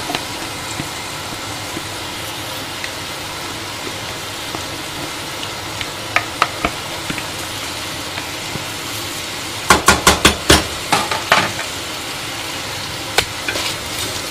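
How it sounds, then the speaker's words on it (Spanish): Potatoes and chicken sauté together in a pan for an adobo-marinated chicken stew, with a steady low sizzle and occasional sharp clacks of a utensil against the pan, including a quick run of knocks near the end. "ahora ya la vamos a rehogar así todo junto para que las patatas vayan cogiendo su sabor"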